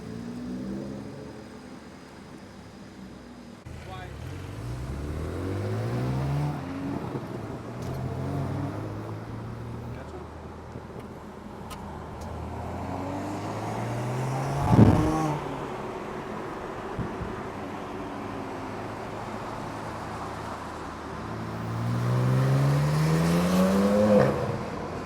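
A BMW G80 M3 exhaust revving in repeated rising and falling sweeps, with a sharp blip near the middle and a stronger climb toward the end, moderately distant at first.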